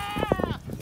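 A Boer goat gives a single short, close bleat with a wavering tremble, over faint farmyard background.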